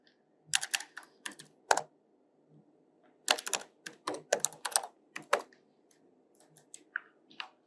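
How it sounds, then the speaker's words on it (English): Typing on a computer keyboard during a UI design lesson: quick clusters of crisp, close key clicks arrive in several bursts separated by short quiet pauses, with no talking. "So first we have to type inside this."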